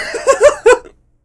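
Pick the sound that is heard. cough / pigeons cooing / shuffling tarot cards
cough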